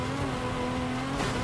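A Ferrari engine drones steadily as the car drives on dirt in the video game Forza Horizon 5, a loud continuous tone with a brief rise near the end.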